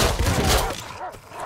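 Gunfire from a weapon in the survival game Rust, a short burst of loud close shots with thuds, followed by quieter tail.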